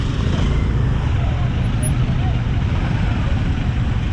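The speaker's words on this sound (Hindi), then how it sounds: "अभी भी मैं ट्रैफिक में फंसा हूँ। और यहाँ देखिए इतने सारे लोग हैं, पीछे भी पूरा ट्रैफिक है।" Steady road traffic noise in a Dehradun traffic jam, a loud, continuous roar of engines and passing vehicles heard up close from a motorbike on the road, with no breaks throughout.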